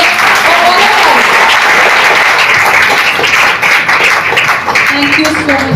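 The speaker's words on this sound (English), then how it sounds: "A big round of applause for all of us." A crowd applauds loudly and continuously at a spina bifida awareness and screening camp, dense clapping filling the room without a break.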